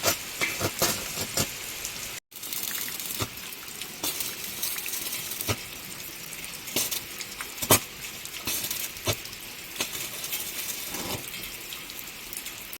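Heavy monsoon rain pours down on a village house site in Konkan where welders join a steel structure at night, a dense hiss broken by sharp crackles and pops, briefly cut out once, with no voices.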